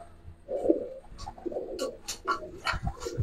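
Silver khaki subchilla pigeons coo close by, soft throaty warbles repeating irregularly alongside faint rustling.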